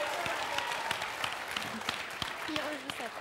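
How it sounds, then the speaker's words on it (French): Studio audience applauds on the French TV game show Le Bigdil, a loose wash of clapping with scattered sharp claps while the host's voice and game-show music run over it. "On l'applaudit."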